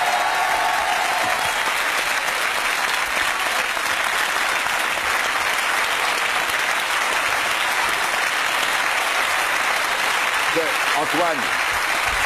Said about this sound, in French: Sous vos applaudissements, Vanessa Paradis.